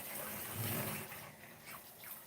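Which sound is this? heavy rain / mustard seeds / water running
water running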